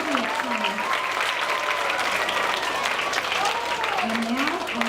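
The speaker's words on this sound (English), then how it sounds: "Another round of applause for the kids in Miss Elliott's class." Applause from an audience at a school DARE graduation ceremony in Irvine, California, a steady burst of clapping that lasts the whole stretch, with a voice talking over it.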